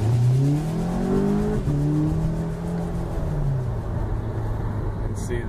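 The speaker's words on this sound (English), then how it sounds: "When that turbo kicks in, it is ridiculous." A 2016 Audi S3 accelerates hard from the cabin, its turbocharged engine note climbing steadily in pitch through a gear and pulling strongly, loud and continuous with road noise underneath.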